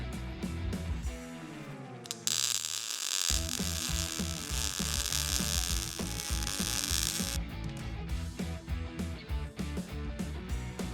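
Steel plate being welded for a flatbed school bus conversion: a steady, harsh crackling buzz holds for about five seconds in the middle, with rhythmic music playing before and after.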